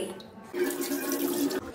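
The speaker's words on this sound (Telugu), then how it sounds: "ఈ నీళ్ళని రాత్రి నానబెట్టినట్టు వంపేసి ఇప్పుడు మళ్ళీ ఒక మారు కడగాలి" Water is poured and swirled over soaked jowar grains in a vessel, a short close splashing rush that stops abruptly.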